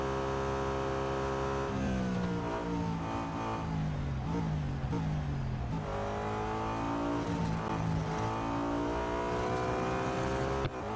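A BMW M3 GTR racing in Real Racing 3 roars loudly and continuously, its engine pitch climbing and dropping repeatedly as it accelerates, shifts and slows through corners.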